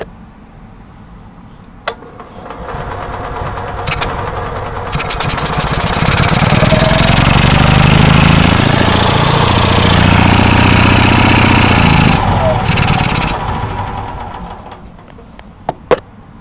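Generac and Onan generator engines running after a cold start, loud and steady close by, the drone swelling in the middle before easing off, with a few clicks near the start and end.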